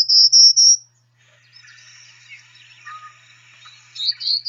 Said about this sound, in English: the male sings a buzzy, flat set of notes that sound like they're ascending up a staircase